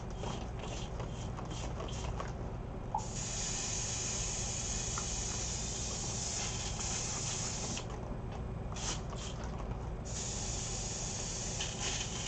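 Airbrush spraying opaque paint for a pet portrait gives off a steady, close hiss that runs almost the whole time, with short breaks and drop-outs where the trigger eases off.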